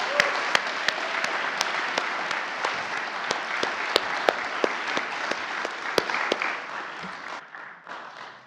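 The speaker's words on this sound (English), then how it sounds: "give a round of applause to these dedicated" Sustained applause from an audience at an annual meeting, a dense steady wash of clapping with a few sharper close claps standing out, fading slightly near the end.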